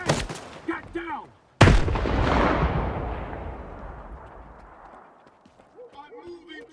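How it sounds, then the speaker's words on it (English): A grenade goes off in the shooter game Stalker 2: one sudden loud, close blast that rumbles and fades over several seconds. Shouted voices come just before it and return as it dies away. "Grenade! Get down!"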